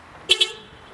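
Two short, bright honks in quick succession from a car horn triggered by an aftermarket central-lock horn module as the doors lock, then quiet background.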